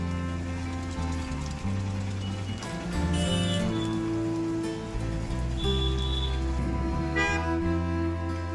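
Pre-monsoon rain falls in Wai, a steady close wash of drops that stays even throughout, layered over a low sustained tonal drone.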